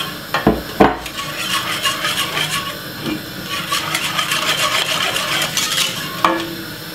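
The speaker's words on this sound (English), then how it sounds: "I'm just gonna be washing out my bowl right here with a little bit more milk" A bowl being swirled and scraped while it is rinsed out with milk during cornmeal porridge cooking, with clinks of a utensil against the dish, a few sharp knocks at the start and a steady stirring scrape.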